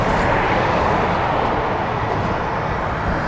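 Boeing 777 airliner at Toronto Pearson airport, a steady, loud broadband engine roar that holds evenly throughout with no breaks, no voices.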